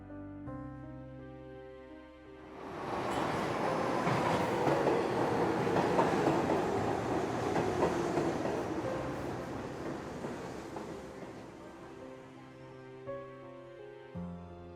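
A subway train rumbles and rattles into the station, growing loud quickly, then gradually slowing and fading as it comes to a stop.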